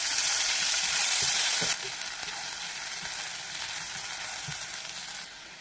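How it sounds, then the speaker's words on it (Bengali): A large chopped onion frying in hot oil, a loud, dense sizzle that eases a little after the first seconds, with a few soft stirring knocks beneath it. "এখন এই তেলের মধ্যে আমি বড় সাইজের একটা পেঁয়াজ কেটে দিয়ে দিচ্ছি।"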